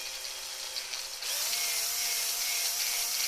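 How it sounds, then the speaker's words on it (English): A power drill bores a small hole into a CE505A/CF280A toner cartridge with a steady high whine that rises and sharpens midway as the bit bites into the plastic, close and continuous. "you drill an hole there and drill a little hole there"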